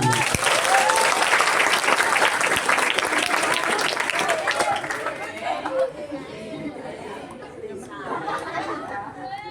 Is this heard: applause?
yes